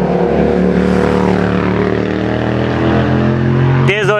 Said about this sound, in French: Désolé pour le bruit de la moto.